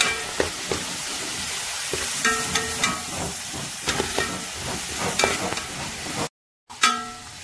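Half a kilo of beef lands among shallots frying in a small uruli, producing a loud, continuous sizzle and hiss punctuated by stirring clatter, with a brief dropout near the end.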